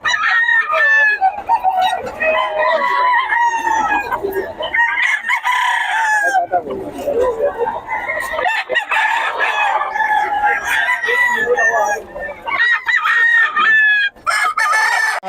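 A Boston gamefowl rooster at a market crows loudly and repeatedly at close range, with clucking from other fowl and a busy market murmur behind.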